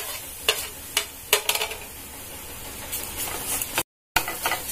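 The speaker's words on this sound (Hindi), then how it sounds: "सॉटे करते हुए मुझे 1 मिनट हो चुका है। अब मैं इसमें ग्रेटेड अदरक डाल दूंगी।" Vegetables for an arbi and aloo masala sabzi are stirred and sautéed in a pan as grated ginger goes in, giving soft sizzling with repeated scraping strokes of a spoon, close and clear, with a brief dropout near the end.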